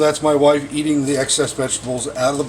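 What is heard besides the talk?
No distinct noise like a dog, phone or traffic.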